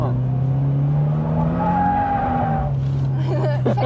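A Toyota 86 drifting on a track, its engine droning steadily and loud up close while tires squeal in sustained smears through the slide, with a voice speaking briefly near the end.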